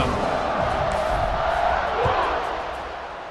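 Stadium crowd in the EA Sports College Football 26 video game roars in a steady, dense wash of cheering after a touchdown, loud and continuous, easing slightly toward the end.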